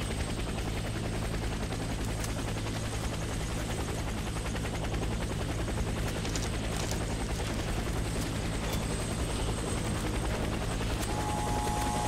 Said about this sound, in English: helicopter is inbound.